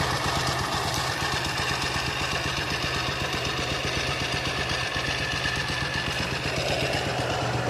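Suzuki Gixxer 150 motorcycle idling up close, a loud, steady, evenly pulsing engine throb that holds constant throughout with no talk.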